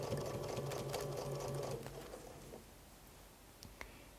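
A sewing machine stitches binding along the edge of a pieced log cabin quilt, its steady mechanical whir running for about two seconds and then stopping, with a few faint clicks afterward.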